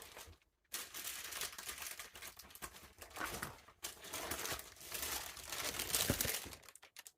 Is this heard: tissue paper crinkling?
yes